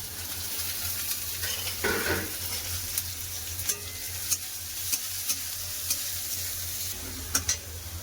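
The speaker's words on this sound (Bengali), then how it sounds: "পেঁয়াজ ভালো করে ভাজা হয়ে গেছে" Onions with green chilli, bay leaf and five-spice seeds fry in mustard oil in a pan, a steady sizzle broken by repeated scraping and clinking strokes of a stirring utensil.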